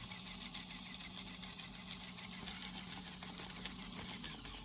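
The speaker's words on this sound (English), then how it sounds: "The grinder is pretty quiet, which is a big plus." A HiBREW G5 coffee grinder grinding coffee beans, a steady quiet low hum with a continuous whirring texture, no pauses, close by.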